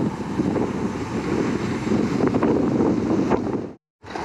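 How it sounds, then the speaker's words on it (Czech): Steady wind buffeting the microphone of a cyclist riding on a road, a continuous loud rumble that cuts out briefly near the end, with no talking. "Foukej, foukej větříčku."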